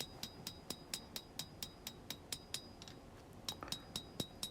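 A hammer forging knife blade bevels on an anvil rings in sharp, bright metallic strikes at a steady quick rhythm, roughly two per second, with a brief pause before the blows resume, fairly faint and alone.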